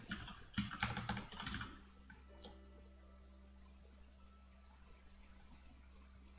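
Quick bursts of typing on a computer keyboard, close but faint, lasting under two seconds before fading into a quiet steady hum.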